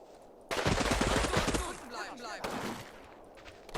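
A loud burst of rapid rifle and machine-gun fire in a Final Blitzkrieg firefight erupts suddenly and rattles on for about a second, then scattered shots and whizzing rounds follow, with a second volley near the end.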